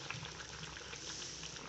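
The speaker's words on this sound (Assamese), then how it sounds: "এইটো পানী ঠিকে আছে এইটো অলপতো উতলিব লাগিব" Water in a pot of pork curry bubbles at a soft, steady boil, faint and continuous with a fine gurgling texture and no voices.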